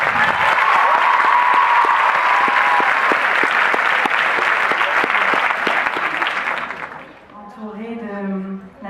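Loud, dense applause from an audience at a cinema event, sustained for about seven seconds before fading, after which a voice speaks.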